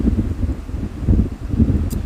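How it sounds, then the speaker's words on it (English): Strong outdoor wind buffets the microphone in low, rumbling gusts that swell and fade in uneven bursts, fairly loud and close, with no speech. "it's hella windy out here"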